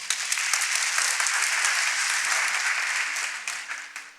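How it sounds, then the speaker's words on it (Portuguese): A church congregation claps together in a dense, sustained round of applause that fades out toward the end, with a faint voice briefly audible near the close. "Pode dar uma salva de palmas?"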